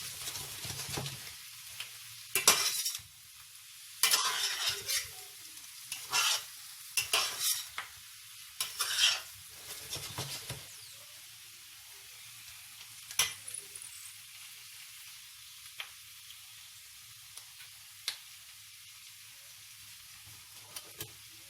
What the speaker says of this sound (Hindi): अब मैंने आलू भी डाल लिए। अब इनको थोड़ी देर के लिए भूनेंगे।